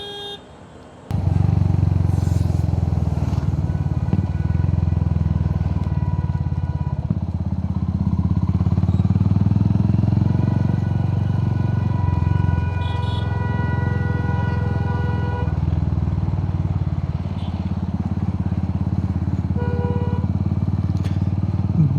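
A motorcycle rides through city traffic, its engine droning loud and close for the whole stretch, with wind and road noise and faint horns in the background.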